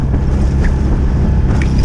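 Heavy wind roaring across the microphone on a boat crossing choppy sea during an Isle of Wight charity challenge, a loud, steady rush with low rumble and faint splashes throughout.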